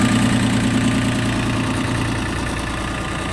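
A Yanmar YM1802 Japanese single-drive mini tractor with a tiller attachment idles close by, a loud, steady diesel chug with a rapid low knocking pulse that holds throughout.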